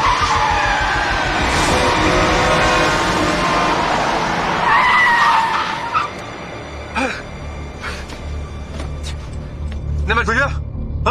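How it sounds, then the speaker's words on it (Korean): A car brakes hard with tires skidding on a street, giving a loud rushing screech that fades, followed by scattered thumps, under shouted voices. "브레이크 밟아!"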